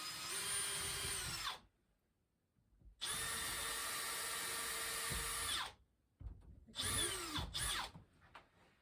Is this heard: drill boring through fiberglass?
yes